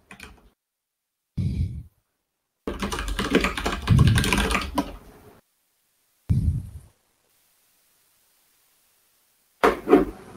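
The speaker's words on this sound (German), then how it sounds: "wir hören dich tippen" Short bursts of computer keyboard typing, close and clear, separated by silent gaps, with a quick flurry of keystrokes in the middle.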